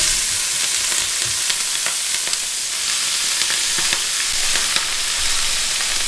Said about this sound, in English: So we're moving towards a pretty smoking hot pan because we got a lot of greens that are going to give off a lot of water.